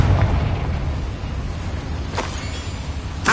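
A Confringo blasting spell bursts in Hogwarts Legacy with a loud, dense rumbling boom that fills the low end, followed by sharp crackling flashes of debris near the middle and end.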